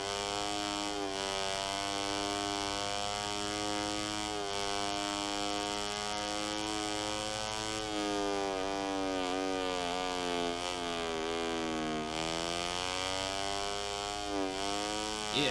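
Motorcycle engine in the racing game MotoGP 17, a steady high-revving whine with rising and falling pitch as it shifts through gears, continuous and loud with no talk over it.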